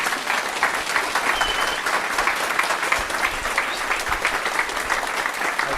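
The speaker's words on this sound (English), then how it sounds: "So a big applause for the whole team" Audience applause at the close of a Flutter developer conference panel, steady and sustained clapping from a sizable crowd at even loudness, with no speech over it.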